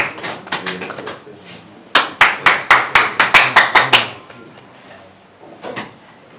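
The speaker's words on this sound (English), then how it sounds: "Give them a round of applause, ladies and gentlemen" Applause at a boxing weigh-in: scattered clapping at first, then a burst of sharp, loud rhythmic claps for about two seconds that fades into a faint murmur, with a last few claps near the end.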